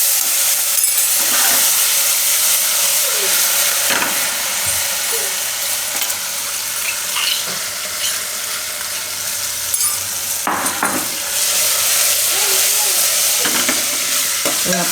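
Cumin, asafoetida, ginger, chillies and garlic hitting hot oil in a pan for a Gujarati corn and potato curry, a loud continuous sizzle with occasional stirring clatters.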